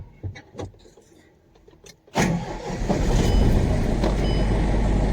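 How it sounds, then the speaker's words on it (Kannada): A lorry engine starts up after a few clicks and knocks, catching abruptly and settling into a loud, steady, close diesel rumble; no voices. "ಬನ್ನಿ ಗಾಡಿ ಸ್ಟಾರ್ಟ್ ಮಾಡೋಣ."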